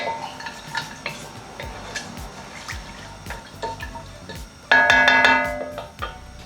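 Whole spices such as mustard seeds, fenugreek, cinnamon, cardamom and cloves are stirred in a cooking pot for chicken curry, giving scattered metallic scrapes and clinks. A brief louder sizzling burst breaks in near the end.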